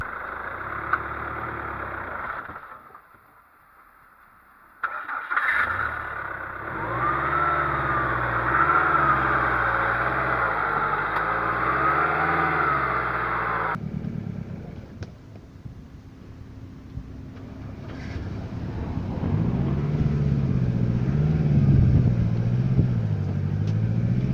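A Jaguar X-Type diesel engine cranks and fires on a cold start after sitting two years, then settles into a loud, steady mid-range idle with a rhythmic wobble, later shifting to a lower, rougher rumble.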